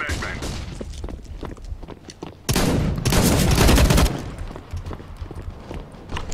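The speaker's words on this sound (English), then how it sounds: "Throwing flashbang." In a Counter-Strike: Global Offensive match, a thrown flashbang grenade goes off with a loud, sustained burst of noise, surrounded by in-game gunfire and players talking.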